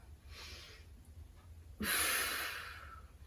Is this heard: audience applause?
no